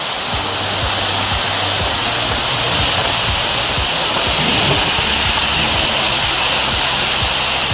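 The Kaviyaruvi (Kurangu Aruvi) waterfall near Aliyar, in heavy flood after days of rain, gives a loud, steady, close roar of rushing water that never lets up.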